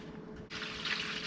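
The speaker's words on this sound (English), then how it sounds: "we're just gonna gently dump the water out." Hot water poured out of a bowl while making pho, a steady splashing gush that starts abruptly partway through and runs on close and fairly loud.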